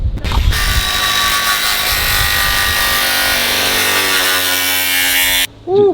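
A power grinder cuts through a meat bone, a continuous high whining screech that holds steady for about five seconds before cutting off abruptly.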